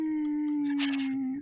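A wolf howls in a Curse of Strahd tabletop role-playing session: one long, steady, slightly falling tone, loud and close, with a breathy rasp swelling in the middle before it fades.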